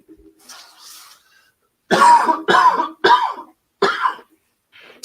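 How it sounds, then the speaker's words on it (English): A run of four harsh, close coughs in quick succession, preceded by faint breathing and a soft throat sound. "I know I keep coughing."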